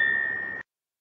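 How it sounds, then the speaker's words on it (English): A railway block instrument sounds a bell code sent by push button: a single steady electric ring with a sharp tone, holding for about half a second and then cutting off abruptly into silence. "Station A presses PB1 button to transmit bell code"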